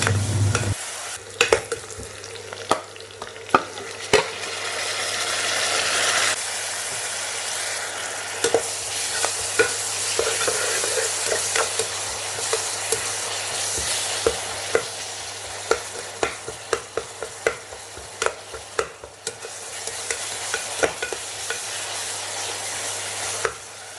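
Ginger garlic paste sautés with onion, tomato and coriander leaves for Melapalayam marunthu soru, a continuous oily sizzle with frequent sharp spatula clicks and scrapes against the pan, close and steady throughout with no speech.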